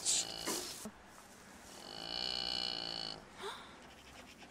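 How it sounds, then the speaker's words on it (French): A cow in a forest lets out a long, low, drawn-out moo, close and fairly loud, with a few short rustles and snorts around it. "Cette bête est une vache."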